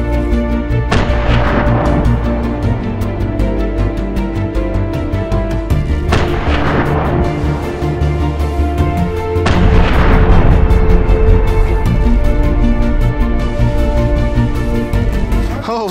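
Explosives set outdoors blow apart a watermelon, giving three loud booming blasts at roughly 1, 6 and 9.5 seconds, each with a sharp crack and long rumbling decay over a steady noisy background.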